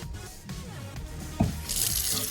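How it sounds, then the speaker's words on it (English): A cold tap turns on partway through while cleaning blue crabs, and a steady broadband rush of running water fills the rest of the clip, fairly close and continuous. "Now I'm going to use cold water and clean that out."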